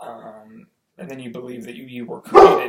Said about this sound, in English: And that's my dog speaking to the universe, right?